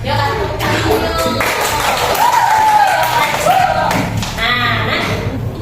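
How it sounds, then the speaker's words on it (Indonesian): Children applaud in a classroom at a teacher's prompt, a steady, busy patter of many hands that runs the whole time, mixed with young voices and a teacher talking over it. "Yuk, kasih tepuk tangan dulu."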